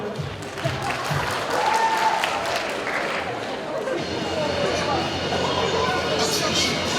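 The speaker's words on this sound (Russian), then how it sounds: "Девочки топают, мальчики хлопают." Girls stomping and boys clapping together at a lyceum school party contest, a dense, continuous crowd noise of stamping feet and hand claps mixed with shouts and chatter throughout.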